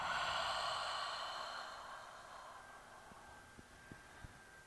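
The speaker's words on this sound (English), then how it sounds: "Big breath out." A deep yoga exhale in a beginner class, a long breathy rush of air that fades away over a few seconds, followed by a few faint soft ticks.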